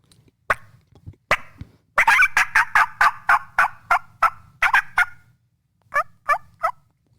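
Hen turkey calling outdoors: a series of sharp, loud yelps close by, a dozen or so rapid evenly spaced notes in a run, then three softer clucks after a pause, with no talk.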